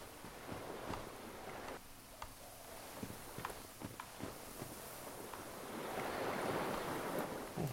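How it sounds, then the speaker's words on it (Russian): Rushing, washing water in a dark jungle area of Dark Souls: Prepare to Die Edition, a steady broadband wash with scattered soft impacts, swelling louder toward the end, with no talk. "Какая-то вода тут натекает"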